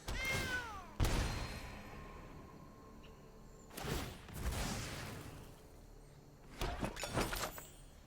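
A cartoonish cat meows from the MTG Arena card game, a rising yowl at the start followed by a sharp crash and further bursts of game effects separated by quiet gaps.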